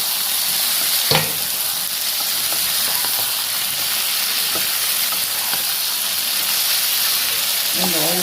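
Ginger and jeera frying in hot oil for a mushroom dish: a constant dense sizzle with a few scattered pops and crackles, close and steady throughout, with a faint voice near the end.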